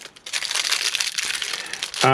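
Crinkly plastic packaging from an AliExpress purchase, a small gauge for levelling table saw and miter saw blades, is torn open with a continuous close crackling rustle, and a voice starts briefly at the very end.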